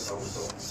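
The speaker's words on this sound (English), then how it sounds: "And now the printer is already started to print." A UV printer runs while printing onto a phone case, giving a steady close mechanical whir with a brief dip in pitch partway through, heard alone for under a second.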